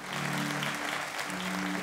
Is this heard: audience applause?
yes